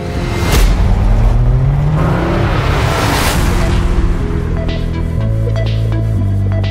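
A 2024 Renault Rafale E-Tech 4x4 hybrid SUV, 300 horsepower, driving in sport mode, loud and close, its engine rising and shifting through revs with whooshing passes.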